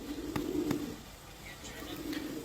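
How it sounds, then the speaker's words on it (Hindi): An Aseel pigeon, a broad, thick-headed breed, coos in low repeated murmurs close by, with faint birdsong and background noise around it. "ये वो कबूतर है माशाल्लाह।"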